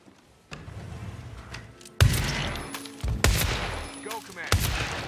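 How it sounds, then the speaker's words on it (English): Gunfire in the Hitman 3 video game, with a quiet stretch followed by several loud, sharp shots at uneven intervals, each cracking out and echoing briefly, with faint game sounds between them. "I heard gunshots."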